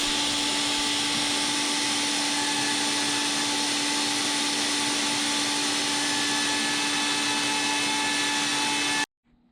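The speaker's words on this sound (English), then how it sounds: "And here I'm cutting the bottom edges of the slots, and I'm cutting them gradually down to the 1 inch depth." A Shaper Origin router cuts slots in ash wood, working gradually down to a one-inch depth, giving a loud, steady, continuous high whine with a constant tone that stops abruptly near the end.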